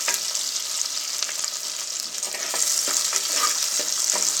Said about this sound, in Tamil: சின்ன வெங்காயம் நல்லா வதங்கணும்.